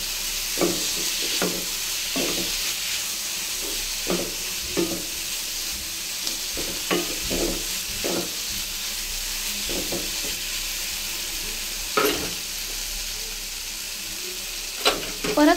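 Cooked rice is stirred into paneer pulao in a pan, with repeated scraping, clinking spoon strokes at an uneven rhythm over a low, steady sizzle and hiss.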